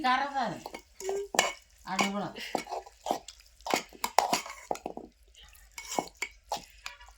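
Brinjal bharta mixture is stirred in a pot, with intermittent scraping and sharp clinks of a spoon against the metal, interspersed with brief voice-like sounds near the start.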